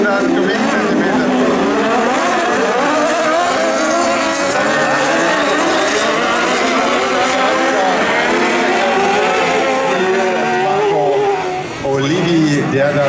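A racing buggy powered by a Hayabusa motorcycle engine of about 1300 cc screams past during a buggy 1600 autocross heat at Seelow, its high revving whine rising and falling continuously under a commentator's talk.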